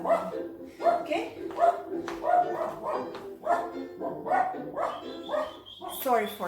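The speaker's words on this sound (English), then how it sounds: "Sorry for the dog." A dog barks repeatedly in a dance studio, with yips and short whimpers scattered among continuous close talking that runs through the whole stretch.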